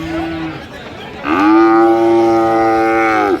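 A Friesian calf at a cattle market gives a loud, drawn-out moo close by, lasting about two seconds after a quieter opening grunt.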